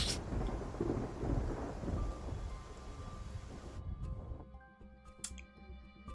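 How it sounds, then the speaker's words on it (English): Heavy rain hisses over a low thunder rumble in the game Love and Deepspace during a storm, then the storm cuts away to quiet, leaving sparse tones and ticks. "Yet, as the thunderstorm rages, the cacophony gradually gives way to silence"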